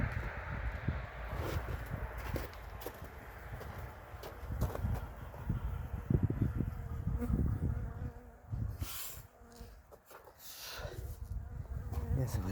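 Honeybees buzz steadily around an opened hive in early February, a dense low drone close to the microphone with occasional faint knocks and movement.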